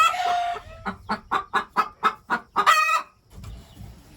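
A broody hen clucks in a rapid, agitated series of loud close calls, rising into a squawk before falling quiet.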